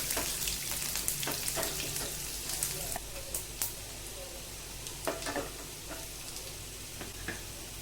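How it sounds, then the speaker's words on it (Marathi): Cumin, mustard seeds, curry leaves and crushed garlic fry in hot oil for a Maharashtrian matki amti. The steady close sizzle is scattered with sharp little pops and crackles, and no one speaks. "आता त्यामध्ये मी मोह जिरे मोहरी कढीपत्ता मोठा ठेचलेला लसूण घालून छान भाजून घेणार आहे"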